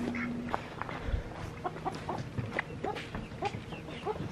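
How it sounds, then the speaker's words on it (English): Farm chicks and chickens cheep and cluck in a busy scatter of short calls close by, with a low thump and faint background noise. "Sounds like the chicks are doing good."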